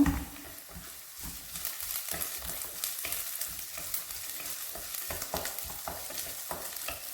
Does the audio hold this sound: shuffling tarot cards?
no